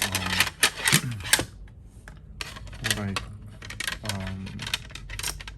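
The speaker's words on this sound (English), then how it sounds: "I'll just keep sleeving some of my cards" Pokemon cards slid into sleeves, with short papery rustles and soft plastic scrapes in small bursts, interleaved with someone talking nearby.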